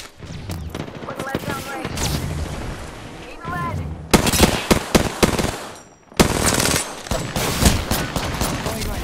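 A scout rifle fires in the battle royale shooter Apex Legends in rapid, sharp bursts of shots, loud and close amid other game sounds, with a player talking over the action.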